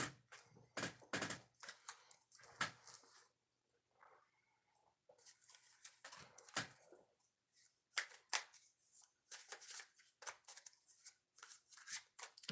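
Oracle cards being shuffled by hand during a live card reading, heard up close as quick, papery riffling bursts that break off for a short pause midway, then resume in busier flurries, with no talking.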